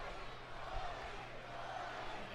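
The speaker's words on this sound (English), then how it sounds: "You can hear this crowd in Portland giving support" A wrestling crowd in Portland cheering in support, a low, distant, sustained murmur of many voices, faint and steady.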